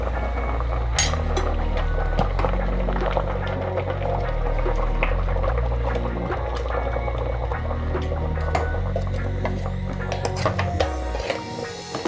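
Thick sambar bubbles and boils steadily as spices are mixed in, with frequent small pops and sizzles over a low rumbling simmer throughout.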